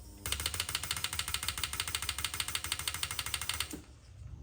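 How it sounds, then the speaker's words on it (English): Decapped fuel injectors firing on a homemade flow bench give off a rapid, steady mechanical clicking buzz that runs loud for several seconds, then cuts off abruptly. "watch what happens when I activate the injectors"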